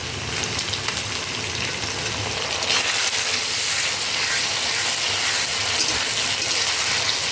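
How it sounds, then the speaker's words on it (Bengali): Ginger and green chili paste frying with garlic in a pan for a chicken dish, giving a steady, loud, continuous sizzle throughout with no voices. "আদা আর কাঁচা লঙ্কাটা দিয়ে একটু ভেজে নিচ্ছি"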